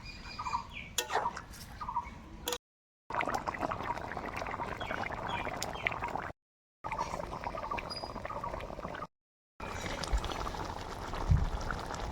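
Broth is poured into a pan of pointed gourd and prawn curry, a soft liquid splashing and sizzling that comes in several short bursts separated by brief gaps, fairly quiet and close.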